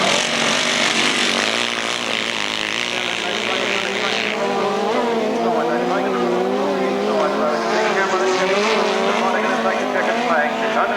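Grasstrack racing machines at a 1991 Woolpack Corner meeting roar around a turn, engines loud and close with rising and falling pitch as several bikes pass, with a commentator talking over the noise throughout.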